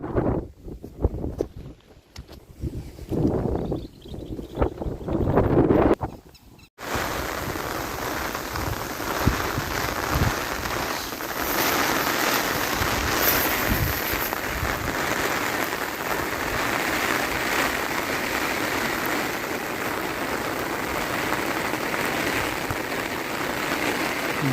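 Very heavy rain pours down in a dense, steady roar that drowns out everything else, after a few seconds of muffled, patchy noise at the start.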